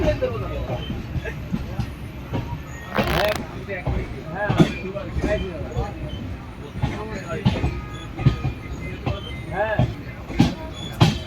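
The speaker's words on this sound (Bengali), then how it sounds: "আমাদের ট্রেন এবার জঙ্গিপুর রোড রেলওয়ে স্টেশন ছেড়ে তার পরবর্তী গন্তব্য ফারাক্কা জংশনের দিকে অগ্রসর হচ্ছে।" Sairang Express pulling out of Jangipur Road station, a steady rumble of rail transport with intermittent clanks and squeaks, overlaid with nearby chatter and a vendor's calls on the platform.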